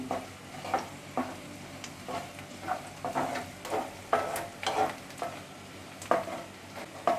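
Onions stirred and sautéed with green chillies in a pan, a soft continuous sizzle broken by regular scraping strokes of the spatula, close and fairly quiet.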